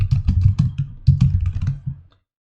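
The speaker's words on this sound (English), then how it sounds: "let's type in" Rapid clattering keystrokes on a computer keyboard, close and clear, in two quick bursts of typing that stop abruptly.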